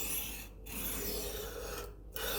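A knife blade sharpened on a stone, close rasping strokes that rub steadily along the edge, with two short pauses between passes.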